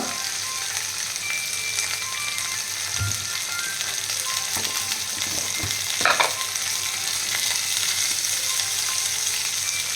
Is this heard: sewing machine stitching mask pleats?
no